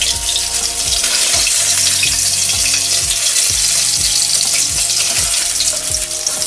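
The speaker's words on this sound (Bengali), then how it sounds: "মাছটা খুব ভালোভাবেই ফ্রাই হয়ে যাচ্ছে" Katla fish pieces fry in hot oil with a loud, continuous close sizzle, and soft regular knocks and scrapes come through beneath the crackle.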